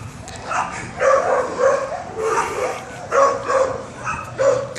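A big dog barks in bursts on a neighborhood walk outside a house in Mexico, the woofs repeating every second or so at close range, with a voice speaking between and over them.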